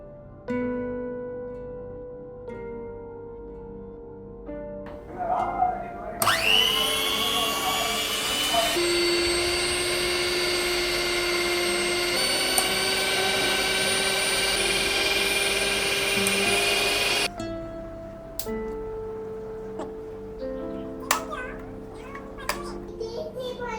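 An iBELL electric hand mixer with beaters runs in a loud, steady whine for about ten seconds, starting and stopping abruptly, with quieter clicks and handling before and after.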